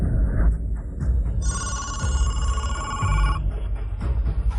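A telephone rings loudly with a steady electronic trilling ringtone, the tone holding for a couple of seconds over a dense background of noise and music.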